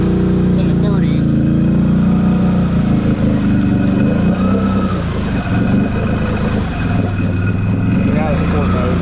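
Engine of a 2022 Can-Am Renegade 650 XMR ATV on new tires, driving through a sand pit: a loud, steady rumbling drone with shifting revs, close up and with wind noise.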